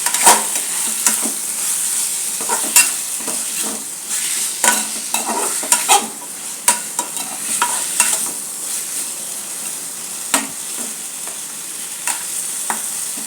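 Chicken and potatoes being fried in a pan, a continuous sizzle broken by repeated sharp scrapes and clacks of a stirring spoon at uneven intervals, close up, with no one speaking.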